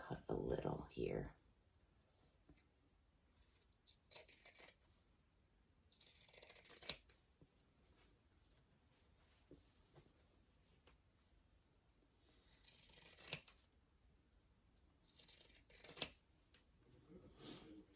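Scissors snip through sewing fabric in several separate bursts of crisp close cuts, spaced by quiet pauses.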